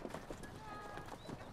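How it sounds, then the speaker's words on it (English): Pack horses carrying supplies to mountain refuges in Chilean Patagonia, hooves clip-clopping in a quick uneven rhythm, close by, with a voice speaking over them. "Finia transports supplies to the refuges using pack horses, or pilcheros"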